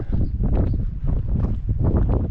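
Strong mountain wind at Seceda in the Dolomites buffets the microphone in loud gusty low roars with a brief lull, continuous through the moment.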